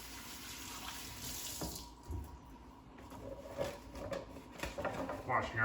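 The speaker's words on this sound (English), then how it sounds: "Washing our hands wherever we can." Hands washed under a running kitchen tap during home cooking, with a steady water rush and soft splashing, near and moderately loud, with clinks of kitchen activity around it.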